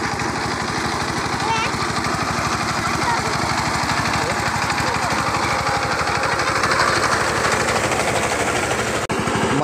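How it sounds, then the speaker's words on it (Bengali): ACI tractor engine running fast in second gear while preparing a jute field for a rice seedbed, a steady close, loud rapid chugging that continues throughout the clip without any break. "কিন্তু ইঞ্জিনের সাউন্ডটাও খুবই ভালো।"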